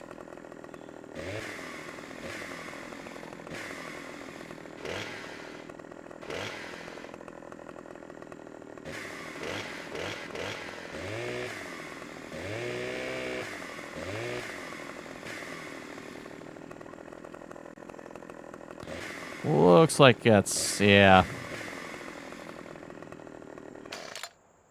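A chainsaw in Farming Simulator 17 idles and revs in short bursts, then roars loudly for a couple of seconds near the end with buzzing harmonics. Brief casual speech and other scattered game sounds fill the gaps between bursts.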